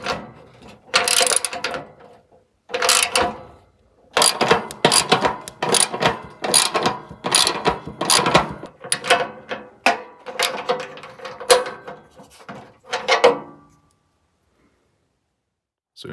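A Carrier HVAC blower fan cage, its bolts freshly tightened, is spun by hand repeatedly, producing close whirring, clicking bursts that speed up and fade, about eight spins before silence.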